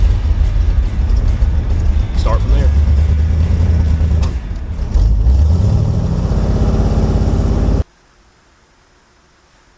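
Old V8 car engine with carburetor warming up, a loud steady low idle rumble with a brief rev in the middle, someone speaking briefly over it, then cutting abruptly to near silence.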